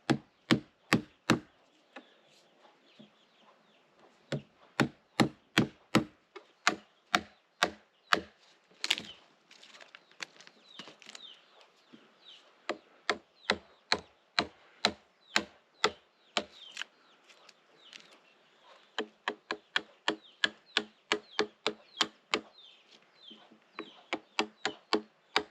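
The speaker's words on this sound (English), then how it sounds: "Hammer and chisel." A hammer drives a chisel into timber while a gazebo is built from trees off grid: sharp, ringing strikes come in quick bursts with short pauses, loud and close, with faint rustling between blows.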